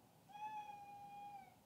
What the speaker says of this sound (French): Même le chat, il dit miskin.